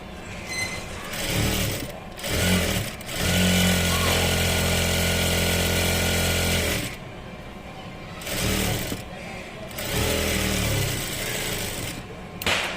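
A sewing machine runs in several bursts while stitching a double-folded fabric strip for a tailoring job, a close, rapid mechanical whirr with pauses between runs, and a voice talks during the gaps.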